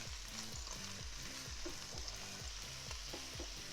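Filet mignon steaks sear on a Ninja Foodi Grill with a steady, close sizzle, while a low rhythmic hum pulses repeatedly underneath; no talking.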